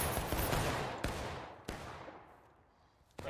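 Musket volley in the War of Rights game: a loud crashing burst of many rifles fired together, its rumble decaying over about a second, then a few scattered single shots cracking afterward.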